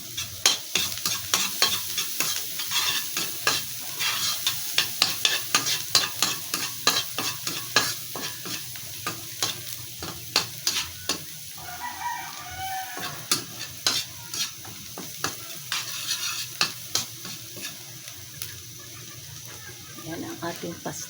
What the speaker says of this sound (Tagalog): Iba-brown lang natin ng konti para magkakulay yung manok